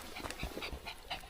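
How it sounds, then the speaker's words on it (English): A little dog pants quietly in short, rhythmic breaths close by during a Lake District hike, faint and unaccompanied by talk. "for a little dog, I think he's got a bit of inner border collie in him."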